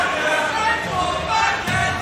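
A tournament crowd cheers during a competitive match: a loud, continuous roar of many voices with a brief swell near the end.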